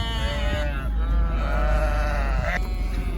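Sheep bleat close by during shearing, a couple of wavering cries over a low steady hum of clippers and shed noise.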